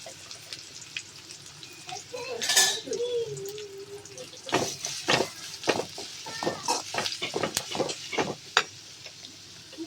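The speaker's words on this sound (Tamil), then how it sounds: "இப்போ வெங்காயத்தை நல்லா நம்ம வணக்கி விட்டுக்கலாம்" Chopped onions sautéed in a pan with cumin and curry leaves, with a steady hiss under a run of sharp metal scrapes and clinks from a spatula against the pan, growing busier toward the end.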